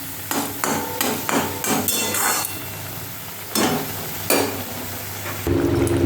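Pre-fried prawns being mixed into fried coconut in a pan for a Bengali fish and prawn dish: sharp, repeated knocks and scrapes of a spoon against the pan over a soft sizzle, close up with no talk.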